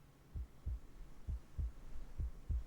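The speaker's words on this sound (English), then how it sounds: "A heartbeat. Right outside the door." A slow heartbeat sound effect from the video game Reverse: 1999 thumps low and muffled, six soft beats in loose pairs over a faint steady hum.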